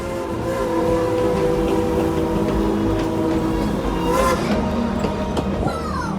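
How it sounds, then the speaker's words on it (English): Tweetsie Railroad train #190 runs along the tracks in a steady, continuous rumble and clatter, with a faint rising squeal toward the end. "Please stay seated until the train has come to a complete stop."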